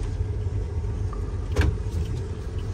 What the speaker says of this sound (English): We'll go one more drive up on the highway.